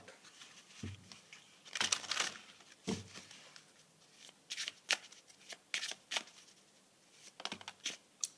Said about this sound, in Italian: Mettiamo un'ultima carta di queste.